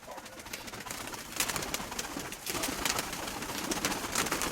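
Newly arrived live pigeons cooing in an unfamiliar loft, soft low coos layered over a busy rustling background, close by and fairly steady throughout.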